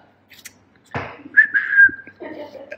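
A person whistles a brief, wavering high tone, with a few short bursts of voice and breath before and after.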